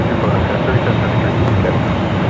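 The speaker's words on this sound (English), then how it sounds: "Touching down at 25 left" Airliner touching down on runway 25 left at Los Angeles airport, a steady broad jet roar that stays loud and even throughout, heard from close by with no distinct pauses.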